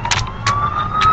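An ambulance siren sounds in Grand Theft Auto, a loud rising electronic wail with short repeated chirps over traffic noise, without talk.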